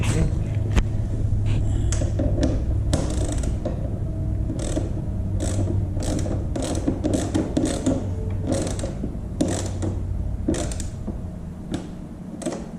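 A socket ratchet clicks in quick, uneven bursts while a fuel tank is fitted to a Royal Enfield Himalayan 450 in a garage, close and fairly loud over a steady low rumble.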